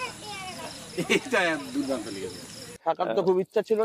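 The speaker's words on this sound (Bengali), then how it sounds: "যেটা ঝিঝি পোকা ডাকছে বা এই হাতি বেরোতে পারে" Crickets chirp at night beside the Jaldapara forest at an eco resort. Their thin, steady high drone sits under close conversation and drops out near the end.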